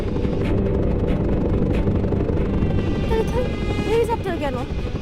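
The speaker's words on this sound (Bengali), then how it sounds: "হেলিকপ্টার কেন?" Steady helicopter rotor drone fills the scene, loud and continuous, with people talking and calling over it in a tense moment.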